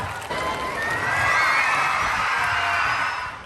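A school crowd of students and teachers at a Teacher's Day celebration cheers and shouts for a retiring teacher, a sustained wash of voices that swells in the middle and stays loud throughout, with clapping hard to pick out.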